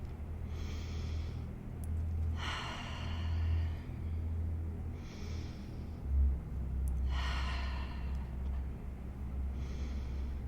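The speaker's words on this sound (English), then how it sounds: "3 deep inhales." Several deep, slow inhales through the nose come close and clearly, each a breathy rush separated by quiet pauses, over a low background rumble.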